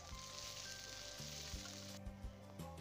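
A pinch of ground cumin hits hot oil in a wok, producing a bright, close sizzle broken by a few spatula scrapes and taps, with faint background music throughout.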